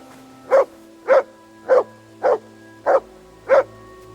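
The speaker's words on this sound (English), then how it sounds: "Good dog, Mutz." A dog in Kingdom Come Deliverance 2 barks six times in a steady, evenly spaced rhythm, each bark close and clear, with no voices over it.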